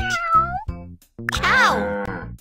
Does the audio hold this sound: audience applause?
no